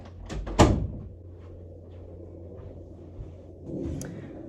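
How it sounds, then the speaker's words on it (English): An indoor door is pushed shut with a sharp thud and rattle near the start, followed by quiet room noise and a soft bump of movement toward the end, with no talking. "let me close that door."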